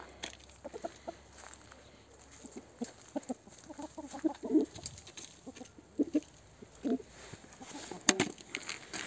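Chickens cluck and murmur close by in short, irregular bursts, with soft cooing-like clucks scattered over a quiet background and one sharp knock near the end.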